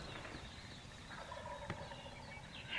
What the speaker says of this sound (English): Obviously there's a bird gobbling right down here. You just heard it.